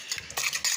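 A yogurt and chicken marinade being stirred in a bowl, heard as a few close, wet squelching strokes with soft utensil scrapes.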